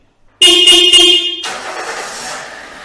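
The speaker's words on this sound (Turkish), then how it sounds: "Kilitleyip marş emrini gönderdik." A 2011 Toyota Corolla locked by remote gives a loud, steady horn-like chirp lasting about a second, then the engine cranks and catches into a rough, even idle.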